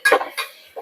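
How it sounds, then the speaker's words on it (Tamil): A metal spoon knocks and clinks against a pot while biryani masala is stirred in, two or three quick close scrapes and taps within a second, with nothing else heard. "அப்புறம் பிரியாணி மசாலா போட்டு ஒரு கிண்டு"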